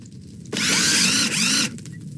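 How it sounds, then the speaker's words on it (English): A power drill whirs steadily for about a second inside a Minecraft pizzeria, starting and stopping abruptly with a short dip midway, loud and up close over faint background noise. "Oh, the drill in here."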